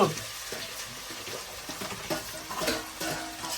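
Tomatoes frying in a pan on low gas, a steady soft sizzle with faint crackles and light stirring scrapes throughout, close and moderately quiet.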